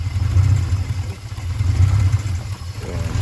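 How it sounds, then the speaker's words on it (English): A 1982 Porsche 928 engine idles roughly, its low rumble rising and dipping unevenly as the revs hunt up and down, the idle set too low. "It's searching for an idle."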